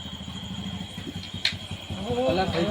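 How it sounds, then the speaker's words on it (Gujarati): A motorcycle engine drones and draws closer, its low pulsing hum running steadily beneath overlapping conversation from people nearby. "બાઇક આવે છે"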